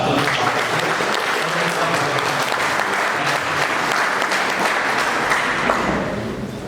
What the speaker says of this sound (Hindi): तो जोरदार ताली के साथ